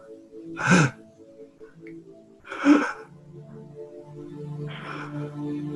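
A performer in a live tabletop roleplaying game imitates soft, ragged breathing: two sharp gasping breaths a couple of seconds apart, then a longer, shakier exhale over a faint hum.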